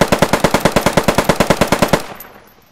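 STG-44 (MP44) assault rifle firing a loud, close, fully automatic burst of about twenty rapid evenly spaced shots over two seconds, then a fading echo tail.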